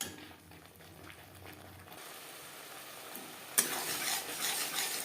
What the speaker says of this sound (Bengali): হাই টু মিডিয়াম ফ্লেমে আরও 3-4 মিনিট নাড়াচাড়া করে নেব